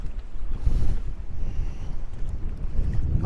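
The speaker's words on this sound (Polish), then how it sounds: "ale wieje masakrycznie." Strong wind at a feeder fishing competition beside wave-whipped water buffets the microphone with a constant low roar and gusting rumble, loud and unbroken throughout.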